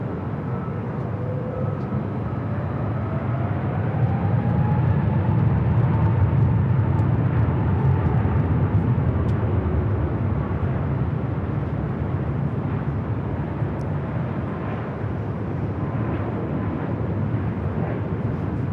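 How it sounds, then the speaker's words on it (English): An Airbus A321neo bound for Salt Lake City rolling down runway 24 left at LAX for takeoff, a loud, sustained jet-engine roar with a rising whine that holds for the full stretch. "A321neo heading to Salt Lake, rolling down at 24 left."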